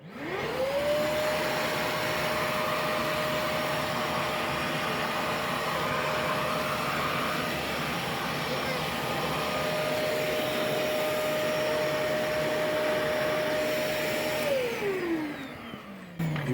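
A fireplace blower motor starts up with a rising whine, then runs loud and steady with a constant tonal hum and broad airy rush for over ten seconds before spinning down and cutting off.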